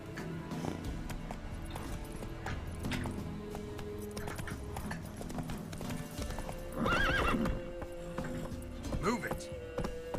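In The Witcher 3 video game, the horse Roach gallops with steady clip-clop hoofbeats, whinnying now and then, while a voice talks over the game sounds.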